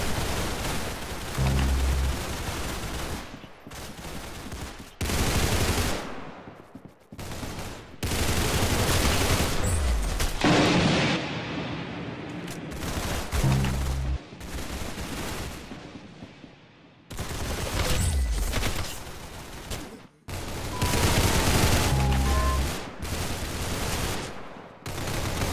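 Gunfire in the Roblox shooter game Arsenal, loud dense bursts of rapid shots in several long volleys separated by short gaps over about twenty-five seconds.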